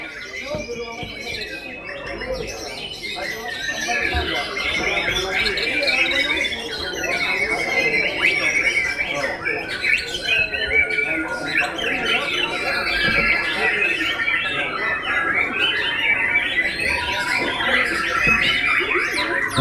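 White-rumped shama (murai batu kumbang) singing in a songbird competition, delivering loud, varied rhythmic whistles, trills and chirps in a long continuous run close by, with some background chatter.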